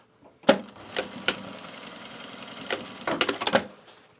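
A sewing machine stitches through the layers of a duffle bag strap in short bursts of rapid clatter, with sharp knocks between runs, close and otherwise quiet.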